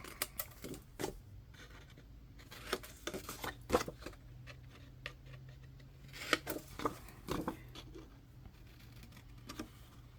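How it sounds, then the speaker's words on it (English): Scissors snip and rustle through paper, cutting small squares and mitering the corners of a scrapbook pocket for a Simple Stories vintage snow album; the cuts come as quiet, irregular clicks and scrapes with soft handling noise. "cut your little squares out and miter all of your corners of your pocket."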